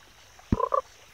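A frog in the mobile game Pocket Frogs gives a single short, close croak in two quick pulses against a quiet background.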